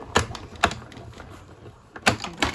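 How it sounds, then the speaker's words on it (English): Card and a metal die being cranked through a small manual die cut machine, sharp clacking knocks at irregular intervals with softer mechanical rumbling between them, close by. "I'm going to give that a run. Go through the die cut machine."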